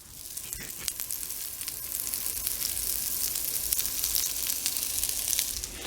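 Food sizzles and fries in a hot pan during a cooking demonstration, a steady close crackling hiss that holds evenly throughout with no talking.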